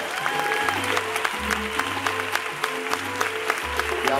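Audience applause for the performers closing a night of shows in Benidorm, a steady dense clapping wash with a rhythmic low beat of music running beneath it throughout.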